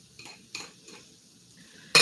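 Spoon stirring garlic and rosemary in a metal pan, a few light scrapes and clinks spaced apart, ending in a sharp louder clank, no talking.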